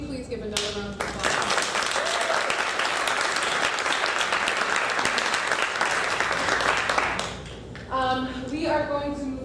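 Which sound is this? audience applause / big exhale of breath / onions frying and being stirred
audience applause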